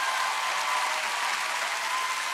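Sustained applause from an awards ceremony audience at the 31st Golden Melody Awards, honoring a special contribution award winner; a dense, even wash of clapping that holds steady throughout with no voices over it.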